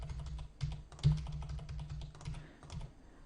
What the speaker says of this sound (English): So let's go ahead and just type in some registration data.